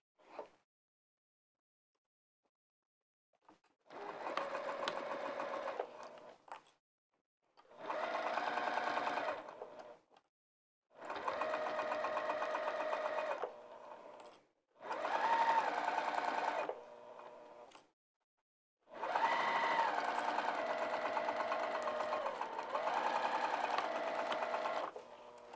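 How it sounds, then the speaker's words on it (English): A sewing machine stitches along a fabric edge for a bag project, whirring in five steady runs of a few seconds each, separated by short silent pauses, close and clear with no talking. "let's sew right along that edge"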